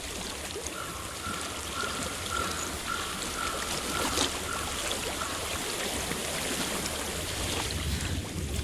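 Steady broadband rush of flowing water in the video game Hellblade: Senua's Sacrifice, constant and fairly loud, with a faint repeating tone in the background and no voices.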